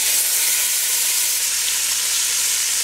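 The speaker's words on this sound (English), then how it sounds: "just place the chuck roast into the olive oil and butter" Chuck roast cubes searing on high heat in olive oil and butter, a loud, steady sizzle and crackle of frying that runs unbroken throughout, with no voices.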